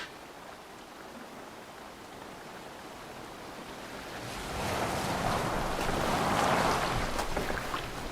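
A boat moves across open water in Assassin's Creed Valhalla, with a steady wash of waves and wind that swells louder and fuller partway through, no voices.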